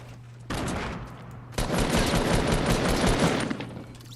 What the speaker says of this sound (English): it's just an assault rifle versus assault rifle fight